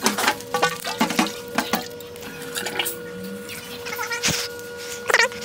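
Water is poured into the priming port of a jet pump, splashing and gurgling in irregular bursts as it fills the housing, loud and close with brief pauses between pours.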